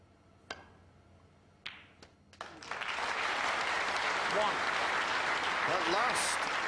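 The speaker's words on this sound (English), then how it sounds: "If this goes in, there'll be a bit of a cheer." A packed audience at the 2002 World Snooker Final breaks into sustained applause after a pot. A few sharp ball clicks come first in the quiet hall, then the clapping swells and holds steady.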